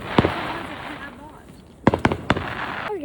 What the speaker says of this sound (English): Okay, guys, we're back up with the fireworks. And they're lighting.